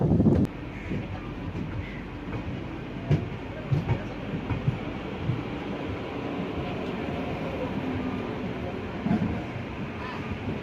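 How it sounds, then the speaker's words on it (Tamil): An AC local electric suburban train stands idle in a rail yard, giving off a steady low rumble and hiss broken by a few soft clanks and knocks, heard from close by with no one talking. "ஏசி லோக்கலுக்கு வந்து இது வந்து ஒரு ரெஸ்டிங் டைமு, அதனால தான் வந்து யார்டில் நின்றுட்டுருக்கு"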